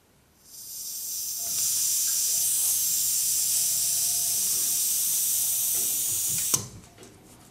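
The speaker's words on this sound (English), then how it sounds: "slack this off, let the air out, and as soon as we get some water out, just close it really quickly" Air hisses steadily out of a heated towel rail's bleed valve for about five seconds, loud and close, then cuts off abruptly with a small click as the valve is closed.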